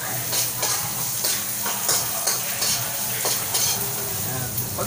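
Onion sizzles in a pan while being stirred for balbacua, a steady moderate frying hiss with rhythmic scraping strokes throughout.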